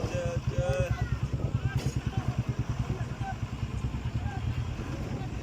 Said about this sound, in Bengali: তো এই ক্রেনটা খুব চেষ্টা করছে লরিটাকে সোজা করার জন্য ট্রেনে তোলার জন্য